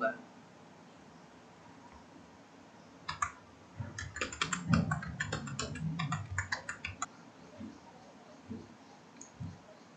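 A computer keyboard clatters as an email address and password are typed, a quick burst of close, crisp keystrokes that fades to scattered taps, with a voice talking over a low background hum.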